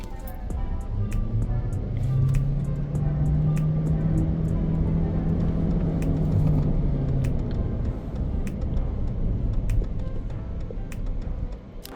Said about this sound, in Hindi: अभी इस गाड़ी का stand still say 0 to 100 check करते हैं।